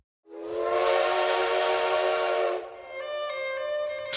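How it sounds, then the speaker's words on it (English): A steam engine train whistle blows one long, loud, sustained tone, then drops to a softer, thinner whistle that lingers to the end, with nothing else around it. "Please turn the page every time you hear the sound of the steam engine train."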